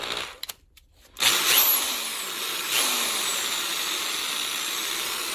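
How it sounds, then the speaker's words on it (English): A corded drill runs on power from a pure sine wave inverter. It starts after a brief quiet moment, then holds a steady, loud motor whine with no one speaking. "I'm going to leave the drill running and we'll go straight over to my sine wave"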